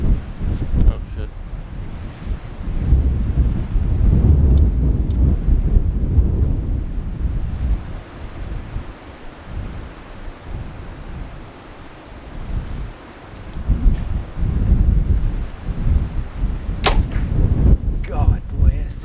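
Strong wind blows outdoors near the sea during archery, gusting loudly across the microphone in long roaring swells with surf and brief muffled sounds beneath.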